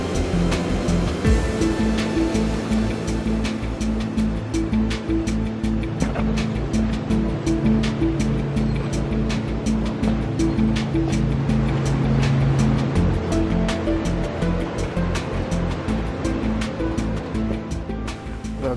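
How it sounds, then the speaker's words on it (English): Small waterfalls tumble through a spring gorge at Old Man's Cave in Hocking Hills, Ohio, making a steady, full rush of falling water that stays even and fairly loud throughout with no voices. "The gorge is filled with small waterfalls"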